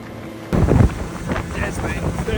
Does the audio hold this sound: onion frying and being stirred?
no